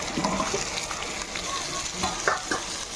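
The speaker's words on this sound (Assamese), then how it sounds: "আলুখিনি ফ্ৰাই হ'বলৈ সোনকালে সিজিব লাগিব" Potatoes and pork frying together in a pan, a steady close sizzle with occasional stirring clatters and brief spatters.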